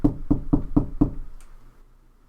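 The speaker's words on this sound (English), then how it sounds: "Who's knocking at my door right now, bro?" Five firm knocks on a door in a quick even rhythm, close and loud, then quiet with a faint rustle afterward.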